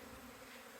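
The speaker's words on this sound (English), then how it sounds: "the bees are going crazy" Honey bees in an apiary on a warm spring day make a steady, continuous buzzing drone, soft and somewhat distant, with no one speaking.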